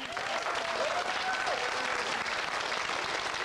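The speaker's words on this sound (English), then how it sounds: "there's the whole audience clapping and just three of them cheering" Game show studio audience applauding, with a few voices cheering above the dense, even clapping and a brief whoop near the start, sustained and fairly loud.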